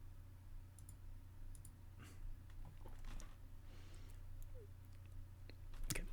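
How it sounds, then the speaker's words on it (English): Computer mouse clicks and keyboard typing, faint and fairly close: scattered light clicks and taps over a low steady hum, with a louder clack near the end. "you click on them here and then you type into them there"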